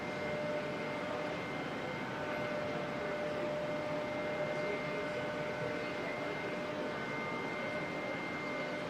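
A Jetstar jet airliner taxis on the far side of the terminal at Auckland Airport, a steady, distant roar and whine of engines holding at an even level throughout.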